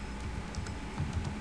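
Light typing on a computer keyboard while writing C# code, a few soft, scattered keystrokes, faint and close.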